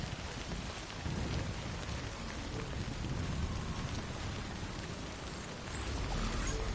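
Steady rain pours in the video game Death Stranding, a dense continuous hiss with low rumbling thunder beneath, filling the whole stretch without any voices.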